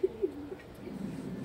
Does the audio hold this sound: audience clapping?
no